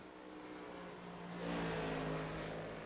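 A Next Gen stock car in the iRacing simulator laps North Wilkesboro, its engine a faint, steady drone that swells louder partway through as the car accelerates, with no one talking.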